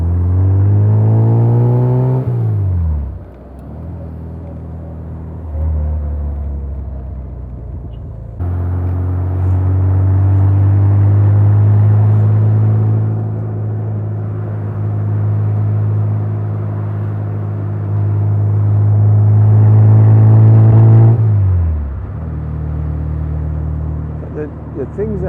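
A 1968 Morgan 4/4 drives along with a close, steady engine drone that rises through the gears, easing off and picking up again, with a low rumble from inside the car and a voice talking over it.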